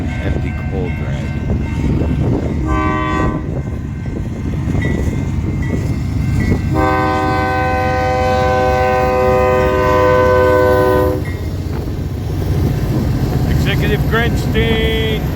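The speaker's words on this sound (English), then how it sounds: "they decided to run the westbound that was waiting the longest, which I believe is an empty coal drag" Westbound freight train, an empty coal drag, rumbling past at close range with a long, loud sustained horn blast in the middle and shorter horn notes around it, people talking over the train noise.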